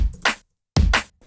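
Drum machine beat programmed for drum and bass, with the snare landing on every other kick: punchy low thumps and bright snare cracks in short bursts separated by a brief silent gap, loud and alone.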